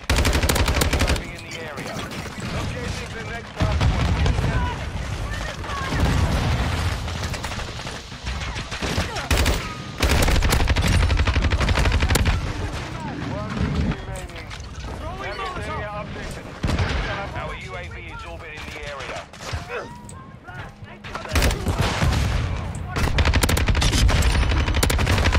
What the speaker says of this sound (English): they were shooting through the wall